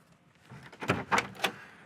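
A door on a 1969 Chevy Camaro swings open, giving a few soft clicks and clunks of the latch and hinge, quiet and close, with no other sound.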